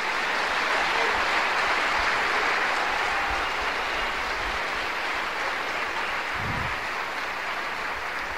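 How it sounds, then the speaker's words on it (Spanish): Strong, steady applause from a church congregation during an evangelistic sermon, filling the room evenly and loudly for the whole stretch, with no speech over it. "No, denle un aplauso fuerte,"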